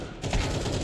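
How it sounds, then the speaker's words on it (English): A shotgun fires in a multiplayer shooter game, one dense, loud burst of blast noise lasting under a second, close and alone. "Shotgun, ow."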